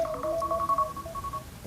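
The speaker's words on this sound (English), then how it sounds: "Oh, that's my alarm." Phone alarm ringing, a quiet electronic melody of short high beeping tones repeating briefly, faint and somewhat distant with soft background noise.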